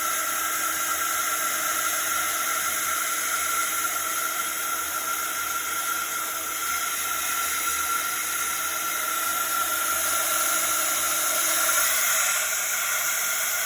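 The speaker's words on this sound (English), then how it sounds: "So now I'm going to use the heat gun" A heat gun blows a steady, loud rush of hot air with a high whine, running continuously and close up with no talking.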